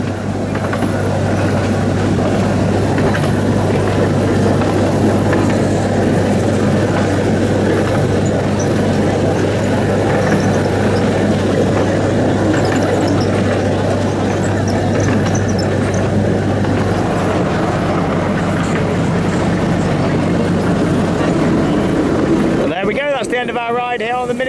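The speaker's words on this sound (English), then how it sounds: "a nice ride there on the miniature railway" Miniature railway train ride at Pleasurewood Hills: a continuous rumbling of wheels on track with a steady low hum, heard up close from onboard, lasting about twenty seconds before ending abruptly.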